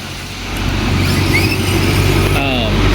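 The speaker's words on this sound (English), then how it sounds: "Oh, nope, that was a cattle truck." A cattle truck rolls past on a rural road amid agricultural traffic, its engine rumble swelling to a close, steady roar and holding loud throughout, with faint voices underneath.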